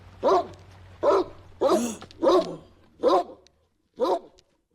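A dog in the film Dogville barks six times in an evenly spaced series, each bark loud and close, with a faint low hum underneath.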